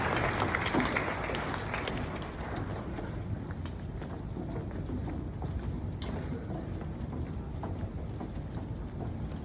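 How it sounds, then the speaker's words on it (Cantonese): Students and teachers at a school morning assembly in a hall applauding the flag-raising team and class 4A, a dense, continuous roar of many hands, loud and unbroken with no talk over it. "我哋俾啲掌聲，升旗隊嘅老師同學，俾啲掌聲4A 班啦"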